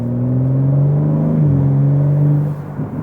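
A BMW G80 M3 with an aftermarket mid-pipe exhaust that deletes the secondary catalytic converter and resonators holds a loud, deep, droning rev that rises slightly, then drops off near the end, recorded close with no talking.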